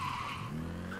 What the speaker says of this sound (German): Das Taxi kam ja gerade richtig angeschossen.